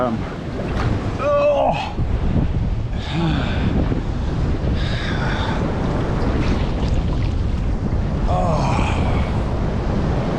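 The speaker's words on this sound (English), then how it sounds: "it's certainly a bit wild out in the ocean today, out in Bass Strait" Rough waves roll in from Bass Strait, a loud continuous roar of surf with wind buffeting the microphone, and a voice speaks intermittently over it.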